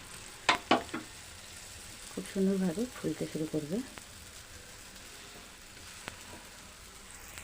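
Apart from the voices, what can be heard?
pea-stuffed paratha frying in oil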